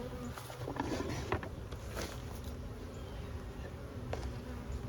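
Honeybees buzzing around a hive that has just been split and disturbed, a dense, steady drone of many insects close by, with no talk.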